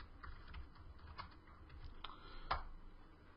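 Fingers tap out an email address on a keyboard, a run of quiet, irregular clicks close by with no talking over them.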